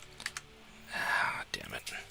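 Computer keyboard typing during a PC strategy game, heard as scattered crisp key clicks with a louder breathy burst of sound in the middle, close and fairly quiet.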